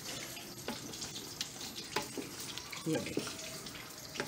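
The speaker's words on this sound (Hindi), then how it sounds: "इसमें थोड़ा सा भूनूंगी इसको दही डाल के" Yogurt fries with Shinwari karahi masala in a karahi over a lit stove, giving a soft, low sizzle with occasional stirring scrapes and clinks, while someone speaks briefly.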